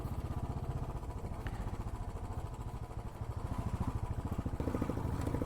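A motorcycle engine revs steadily at close range on a dusty dirt road, its throbbing exhaust pulse continuous throughout with some rattling clatter.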